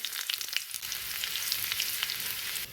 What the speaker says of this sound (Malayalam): ഇതിലേക്ക് കുഞ്ഞുള്ളിയും ചുമന്ന മുളകും കറിവേപ്പിലയും കൂടി ചൂടാക്കി എടുക്കാം